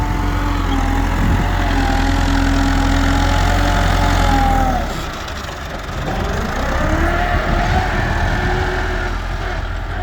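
A tractor engine idles steadily beside a trolley being loaded with soil, a loud low rumble that dips briefly midway, then picks up again with a rising and falling tone.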